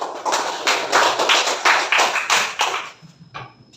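Classroom applause for elementary students, a short round of brisk clapping from a group of children that builds quickly, holds for about two and a half seconds, then dies away to a few scattered claps.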